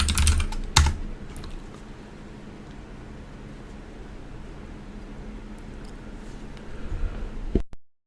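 Computer keyboard typing at close range, a steady patter of keystrokes with a louder burst at the start and near the end over faint background hiss.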